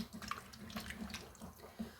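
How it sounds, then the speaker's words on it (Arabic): Taro is scrubbed hard in hot water, giving soft, faint splashing and rubbing sounds with small irregular bursts of water noise and no talking. "هفضل ادعك في القلقاس بالمية السخنة جامد قوي بقى"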